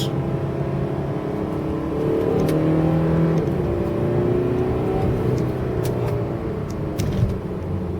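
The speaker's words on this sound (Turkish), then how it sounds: "motorun çıkardığı ses de çirkin bir ses değil" A Volvo XC60 engine revs hard and holds around 3,500 to 4,000 rpm, a loud steady drone with rising harmonic tones, sustained throughout with no talking.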